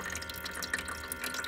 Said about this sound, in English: that is the way your water should look flowing in there